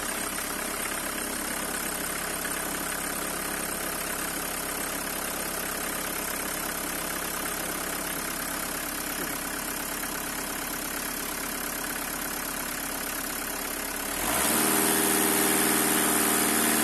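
A VW Caddy engine idles steadily right after starting, a close, even mechanical hum with no talk, its tone shifting and getting louder near the end.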